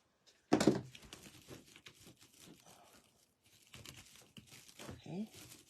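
Blue deco mesh for a wreath being cut and handled: a loud crinkling rustle at the start, then softer scattered crinkles and rustling, with someone talking over much of it.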